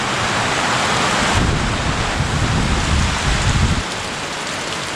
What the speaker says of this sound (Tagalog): grabe ng lakas ng ulan.